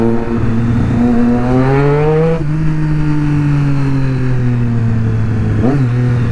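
A Triumph Street Triple 675 motorcycle engine revs loud and close, pitch climbing and dropping as the throttle is blipped, with a second short rev near the end and no talking over it.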